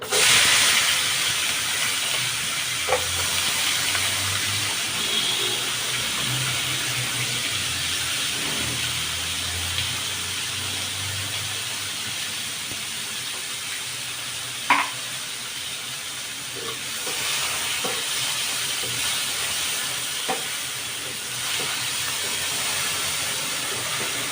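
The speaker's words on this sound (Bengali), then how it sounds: "এখন আমি পেঁয়াজ কুচি দিয়ে দিলাম" Chopped onions sizzle loudly in hot oil left over from frying rui fish, a constant close hiss with occasional stirring clicks and scrapes.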